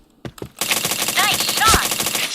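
Rapid automatic gunfire rings out in the shooter game Point Blank, two single shots followed by a sustained loud burst, with a voice briefly heard under it.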